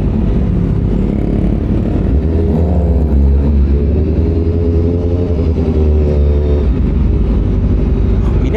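High-revving engine of a 230 hp Honda CBR1000RR-R Fireblade SP sportbike on a road test ride, a loud steady drone that rises in pitch through the middle of the ride, blended with heavy wind rush.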